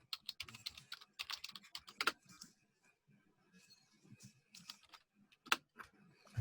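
Close, quiet typing on a computer keyboard, irregular bursts of clicking keystrokes with short pauses between them.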